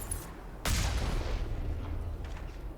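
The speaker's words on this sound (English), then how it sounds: "I knew I had a big cannon" A big vehicle-mounted cannon fires once in the Mass Effect video game, a sudden heavy boom that rolls off into a long, rumbling decay over steady low engine drone.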